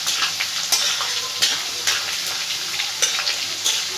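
Chopped ginger and garlic fry in hot oil for a tadka dal, a close, steady sizzle broken by the scrape of a spoon stirring the pan at a regular rhythm.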